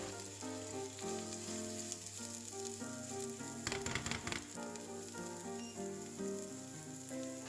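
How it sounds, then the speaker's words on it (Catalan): Pieces sizzling in a splash of oil in a pan, the oil not too hot, a soft steady crackle and hiss under background music, with a brief louder burst of spitting in the middle. "I les posem a fregir amb un raig d'oli"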